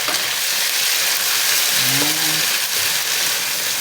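Onions, garlic and corned beef fry in a pan with a loud, constant sizzling hiss up close, and a brief low tonal hum cuts in partway through.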